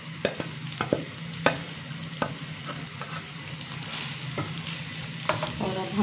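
Mashed roasted brinjal for bharta is added to a pan and stirred, a steady low sizzle punctuated by repeated sharp spatula knocks and scrapes at an uneven pace, close by and without speech.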